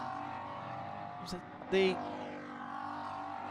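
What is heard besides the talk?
race cars passing by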